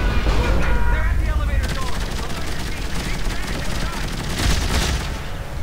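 Rapid gunfire in Dead Space 3 co-op combat, dense bursts of shots and heavy booms rattling almost without pause, loud and close, with voices speaking over it.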